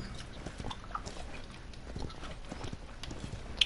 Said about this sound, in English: as soon as I saw Tyra come up over the hill with a freaking horse